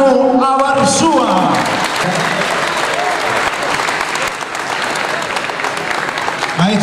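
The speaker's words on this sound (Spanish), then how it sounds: "Fuerte el aplauso para Manu Abarzúa" Strong audience applause fills a party celebrating Friend's Day, honouring an artist. Steady clapping from a crowd carries on for several seconds and does not let up.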